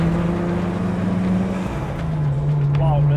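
Race car with a Toyota 2JZ engine fitted with rebored factory turbos, its steady low engine drone running close and loud throughout, with the pitch dipping midway, while a voice talks over it.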